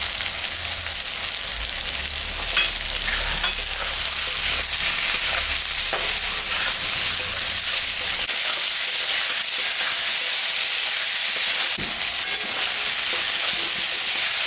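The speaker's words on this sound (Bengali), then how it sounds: "বেগুন ভাজা ভাজা হয়ে গেছে এখন আমি স্বাদ মতন লবণ আর পরিমাণ মতন হলুদটা দিয়ে দেবো" Eggplant frying in a pan with salt and turmeric, a steady close sizzle with stirring scrapes, for a Bengali fish-in-mustard-paste dish; the sizzle runs continuously without talk.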